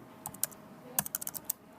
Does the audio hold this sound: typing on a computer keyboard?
yes